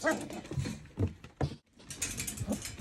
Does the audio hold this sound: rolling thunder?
no